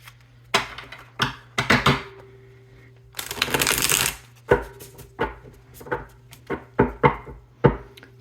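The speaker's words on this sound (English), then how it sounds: "So we're going to pull 3 cards." Tarot cards riffle-shuffled in a quick papery burst, then several crisp snaps and taps as cards are pulled and laid down one by one, close and clear with no talking.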